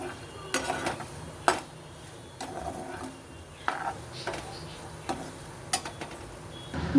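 Dry fruits being roasted in a pan over a medium flame, giving light clinks and scrapes of a spoon stirring against the pan in a quiet kitchen, irregular and fairly soft.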